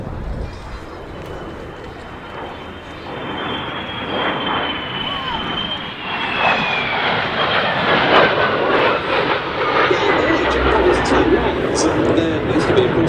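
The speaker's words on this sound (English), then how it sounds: "So here they come in from the left, a very nice three-ship formation, the Jet Provost T5 and the two Vampires." A Jet Provost T5 and two de Havilland Vampire jets fly past in a three-ship formation at the Duxford Battle of Britain Airshow, a loud jet roar building steadily as they approach, over open-air crowd ambience.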